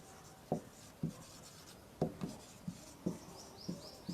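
Chalk or marker taps and strokes on a board during a chemistry lecture, a series of soft irregular knocks and scratches at close range, fairly quiet against a faint room hiss, with no speech.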